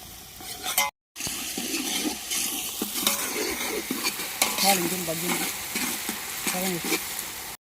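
A chilli mixture being stirred in a pan, scraping and sizzling in an uneven rhythm close up, broken by a brief silent gap near the start, with no talking.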